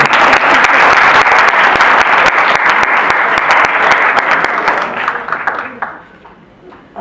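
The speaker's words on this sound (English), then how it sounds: "So she's clapping." An audience claps at an awards ceremony during a conference, a dense loud round of applause that holds steady for several seconds and then thins out to scattered claps.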